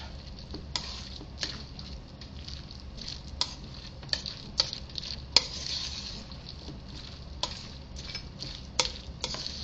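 Vegetable pancake batter is stirred in a bowl, a soft wet churning broken by irregular light clinks and taps of the utensil against the dish, close and steady with no voices.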